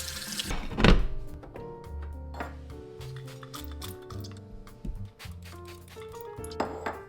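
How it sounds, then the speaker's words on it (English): Tap water runs over spinach leaves being rinsed at a kitchen sink, a steady close splash with a few light clinks and knocks of dishes around it. "I'm gonna rinse each of the leaves off."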